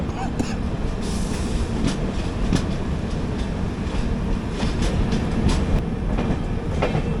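Garib Rath Express train pulling out of Kochuveli station, with steady rumbling rail noise and repeated sharp clicks of wheels over rail joints, fairly quiet and continuous. Some voices may be faintly present.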